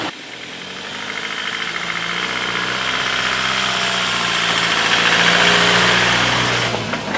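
A steady mid-pitched engine hum swells gradually and fades slightly at the end, like a car passing close by on a road near a farm, with no voices.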